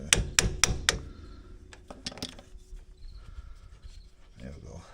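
Four sharp, ringing hammer strikes on metal in quick succession while fitting a brake caliper on a Polaris Ranger 570 utility vehicle, then a few lighter taps and clinks amid quiet workshop noise.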